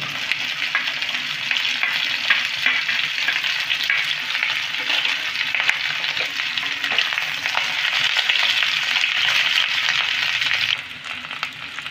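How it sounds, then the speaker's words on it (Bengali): Pointed gourd and potato pieces frying together in well-heated oil, a dense, steady sizzle and crackle that stays loud and continuous, easing slightly near the end. "পটল আর আলুটাকে ভেজে নেব"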